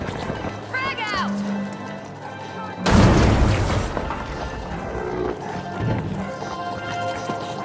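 A grenade detonates in the video game THE FINALS: one loud, sudden broadband blast that fades into a rumbling tail amid ongoing game sounds, with a voice calling out shortly beforehand.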